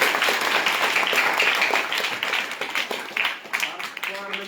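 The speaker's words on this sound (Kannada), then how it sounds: "ಜೋರ ಚಪ್ಪಾಳೆ ತಟ್ಟಿ." A crowd of children at a summer camp clapping loudly, a dense burst of applause that thins toward the end.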